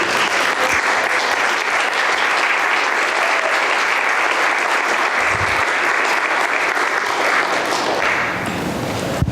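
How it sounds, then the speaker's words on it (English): Loud, sustained applause from a crowd at a county board meeting, a dense continuous roar of clapping that eases slightly near the end. "she deserves a round of applause"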